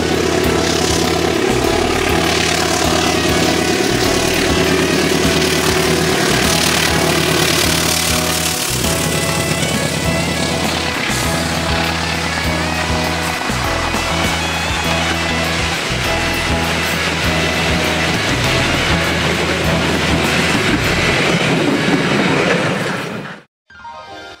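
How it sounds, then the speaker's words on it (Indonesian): The Argo Wilis passenger train runs on its rails with a loud, steady rumble from inside the carriage and a repeating rhythmic clatter of wheels over rail joints, cutting off abruptly at the end. "Ini juga terakhir kalinya saya naik kereta api Argo Wilis"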